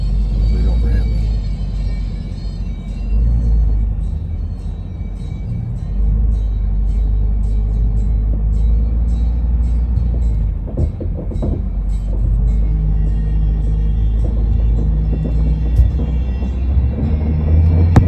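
A car cruising along the highway between Whitehorse and Fort Nelson, beside a lake at sunset, gives a steady, loud low road rumble with tyre and engine drone that holds for the whole stretch, with a few brief bumps.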